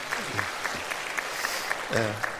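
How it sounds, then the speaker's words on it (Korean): Church congregation applauding during a Korean worship service, steady clapping heard over a quiet room, with a voice speaking briefly near the end. "박수 한번 해주시죠"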